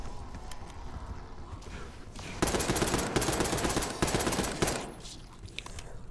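Sustained automatic gunfire from Call of Duty Black Ops 6 rattles in dense, loud bursts through the middle of the clip, with quieter game ambience before and after.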